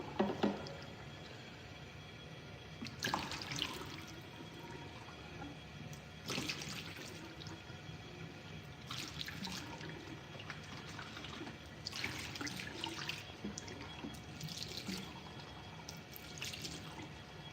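A water tap runs in a gym setting, giving a soft steady wash with dripping and splashing bursts every few seconds, fairly faint and close, with no talk.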